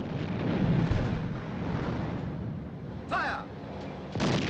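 A tank gun fires high-explosive rounds, with a deep rumbling blast early on and a sharp, heavy boom near the end, heard at a distance alongside brief voices.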